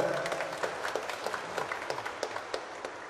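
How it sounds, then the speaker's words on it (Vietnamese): Wedding guests and a priest at a Vietnamese Catholic Mass applaud the newlyweds, a fairly quiet, distant patter of clapping with scattered sharper claps standing out and a few faint voices underneath. "Cha và mọi người chúc mừng chúng con bằng một tràng vỗ tay thật lớn thật dài."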